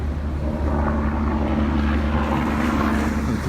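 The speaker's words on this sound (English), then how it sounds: "There's a helicopter again circling around." Helicopter circling overhead above Governors Island in New York City, a loud continuous rotor and engine drone holding steady throughout without any voices.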